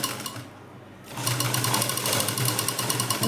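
An electric sewing machine stitches piping made with a doubled fabric strip. It gives a steady, fast mechanical whir and rattle after a brief pause near the start, close and loud, with no voices.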